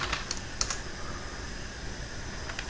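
Computer keyboard typing in a quiet room, a few light, scattered key clicks at an irregular pace over a soft background hiss, with no voices.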